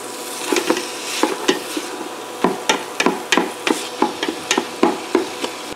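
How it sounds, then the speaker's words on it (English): Ground turkey sizzles in a pan while a utensil repeatedly strikes and scrapes the bottom in a steady chopping rhythm, with no talking. "we're gonna start chopping up our meat in there."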